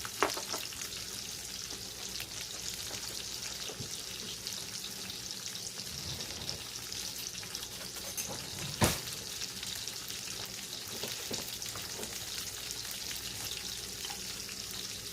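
Stewed tomatoes and their juice simmer and thicken in a skillet, giving a steady close sizzle with faint stirring scrapes and one sharp clink partway through.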